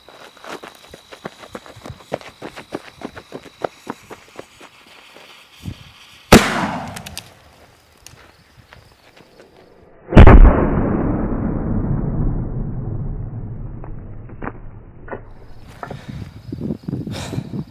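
A dummy RPG-2 rocket fired with a 15 gram booster goes off in two sharp blasts, the second a loud bang with a long rumbling decay, amid scattered footsteps and handling noises outdoors.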